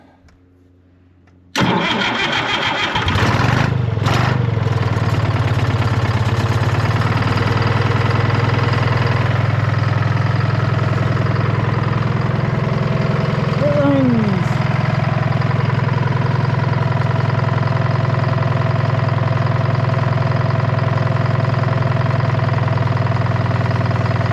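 John Deere 440D engine cranking over and catching, then running steadily at a loud, close idle with a slight rise as throttle is applied, a brief whistle-like squeal partway through, no talk.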